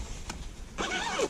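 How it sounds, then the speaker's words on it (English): A zipper is pulled shut on a canvas car seat cover, a short rasping run that swells near the end of the clip. "do your zips up"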